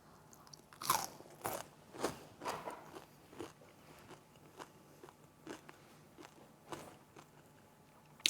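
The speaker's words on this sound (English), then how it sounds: "The outside is crunchier than the center." Fried potato chunks, made of potato and salt and crisp outside, crunched and chewed close to the mic in a run of uneven sharp bites, louder at first and then softer, with no voices.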